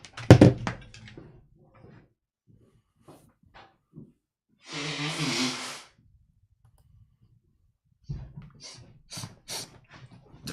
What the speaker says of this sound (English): I gotta quickly blow my nose.